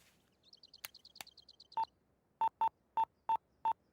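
Telephone keypad tones sound in a comedy scene, with a quick run of faint chirps and clicks followed by six loud, evenly spaced beeps as a number is dialed.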